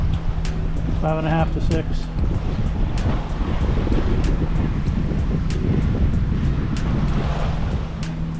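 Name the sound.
wind and waves while sailing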